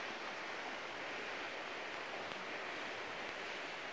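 Spring Creek flowing beneath a bridge in July, a steady, faint hiss of running water with no breaks and no voices.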